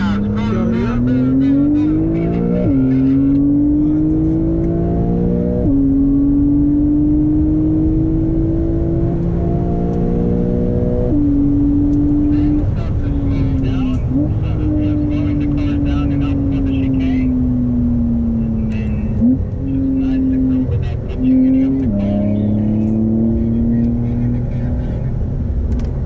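Porsche sports cars driven hard on the Buddh International Circuit track, one engine note climbing through repeated gear shifts, rising, dropping and rising again, loud and close inside the cabin as voices talk over it.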